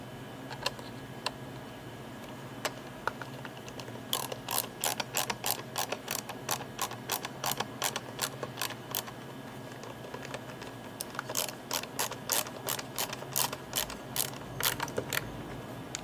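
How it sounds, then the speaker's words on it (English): A circuit board is screwed back into a DJI Phantom 4 remote controller, giving close, sharp ratcheting clicks. They start sparse, then come in rapid bursts over a quiet background, with no speech. "And you just gotta screw the board back in."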